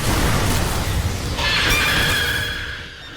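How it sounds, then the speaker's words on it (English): Omnigul, a monstrous enemy in the Destiny video game, lets out a long, shrill scream over dense, loud combat noise and rumbling, fading toward the end. "She's screaming her lungs out,"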